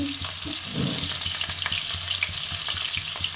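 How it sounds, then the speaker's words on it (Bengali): Pieces of rui fish fry in a pan with a continuous bright sizzle and crackle, close and fairly loud, with occasional stirring or turning sounds and no speech. "আমার মাছটা ভাজা হয়ে গেছে বা তুলে নেব একদম লাল করে ভেজে নিয়েছি"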